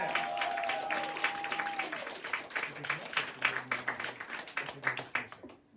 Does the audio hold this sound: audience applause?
yes